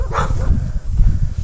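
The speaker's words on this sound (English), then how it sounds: "I'm not anywhere near those dogs that are barking" Dogs bark in the distance along a walking route, a brief muffled outburst under steady outdoor background noise.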